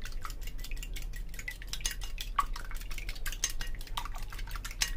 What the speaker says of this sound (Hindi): यहाँ देखिए मैंने 2 अंडे ले लिए और अंडों को अच्छे से फेंट लेंगे